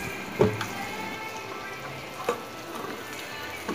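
Firm tofu pan-searing in a pan, giving a soft, steady sizzle and fry with a few faint pops and light clinks, heard close up with no talking.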